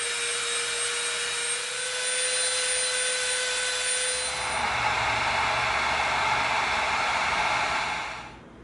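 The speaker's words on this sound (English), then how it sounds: "now we're gonna bevel the edge of this 10mm piece" A power tool bevels the edge of a 10mm EVA foam piece, giving a steady, close, high-pitched whirring hum that deepens partway through before winding down at the end.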